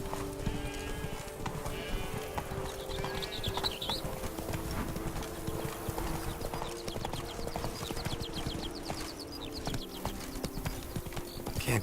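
Roach the horse gallops steadily through The Witcher 3, hooves clip-clopping in a continuous rhythm over a droning game soundscape, with faint bird-like chirps and occasional bleats in the background.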